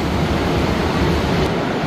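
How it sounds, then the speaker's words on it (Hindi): Very heavy rain pours in a dense, steady roar, loud and close with no break, the hardest downpour after two days of rain, with water leaking through a building. "ये तो बहुत ज़्यादा तेज बारिश हो गई"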